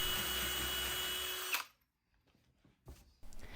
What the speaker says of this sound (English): I just need to drill a pilot hole down into the slab